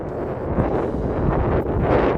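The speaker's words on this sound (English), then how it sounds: "There's very little shelter, and the wind is blowing pretty good." Strong wind roars steadily across an exposed beach on the East Coast Trail, a loud continuous buffeting that gusts against the microphone with no voices.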